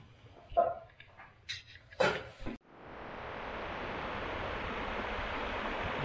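River water rushes over stones at Shergaon, Arunachal Pradesh, a steady broadband roar that begins after a few knocks and clatters, then holds evenly and fairly close.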